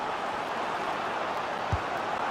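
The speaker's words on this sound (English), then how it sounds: "Well, just listen to the crowd. They know this is a big chance to equalise." Stadium crowd noise from the FIFA 23 football video game, a dense continuous roar of many voices at steady loudness with a brief low thump near the end.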